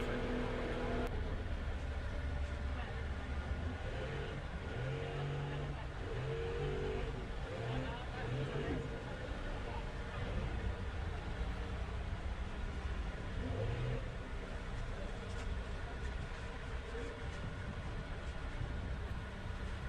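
A car reverses off a pont river ferry in western Zambia's Liuwa Plains, its engine a steady, loud, close drone that rumbles without a break from start to finish.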